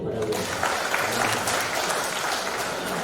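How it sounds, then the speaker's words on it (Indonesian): Steady, dense applause from an audience at a university rector's speech ceremony, loud and sustained for the whole stretch with no break. "Tepuk tangan dulu pada beliau."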